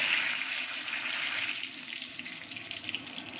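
Whole garam masala and bay leaves hit hot oil for a Bengali fish-head muri ghonto, giving a steady, close sizzling hiss that softens slightly toward the end, with no voices.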